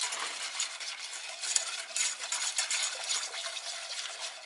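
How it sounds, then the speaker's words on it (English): A spoon stirs sugar into melted butter in a pan, giving a soft, steady gritty scraping with light rhythmic swishes and clinks, close and fairly quiet with no talking. "We're going to mix in our cup of sugar. Get that all melted together."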